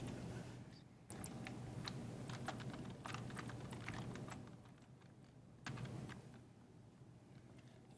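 Typing on a computer keyboard, with quiet, rapid, irregular key clicks continuing throughout and a brief pause partway through.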